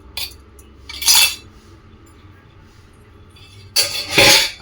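Metal utensils and dishes dropped into a kitchen sink, two bursts of clattering clinks about three seconds apart, close and fairly loud, with quiet background between.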